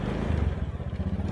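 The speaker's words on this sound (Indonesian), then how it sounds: "Kau pun naik motor." A motorcycle pulling away at a night market village, its engine chugging in a low, pulsing putter up close that carries steadily for a moment.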